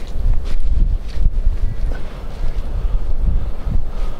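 Gusty wind buffets the microphone outdoors near a Matilda tank, pillbox and landing craft, a steady low rumble with stronger surges rising and falling throughout, no voices.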